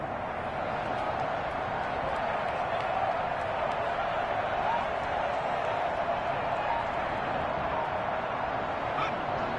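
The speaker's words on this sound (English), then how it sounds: "And the home crowd applauding." A home crowd at an NFL game between the Tampa Bay Buccaneers and the Washington Football Team applauds in a loud, steady, continuous roar of clapping and cheering that fills the stadium without letup.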